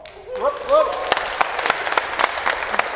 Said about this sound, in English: It means a great deal to hear your love and support when you applause for these ringers